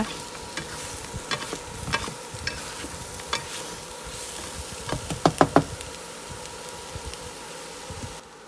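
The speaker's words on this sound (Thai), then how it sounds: "โรยต้นหอมซอยค่ะ แล้วก็ผัดคลุกคลุกเขาให้เขาเข้ากันนิดนึง" Sea bass being stir-fried with sliced spring onions in a pan: a quiet continuous sizzle with scattered scraping clicks of the spatula, and a quick cluster of knocks near the end, with no one talking.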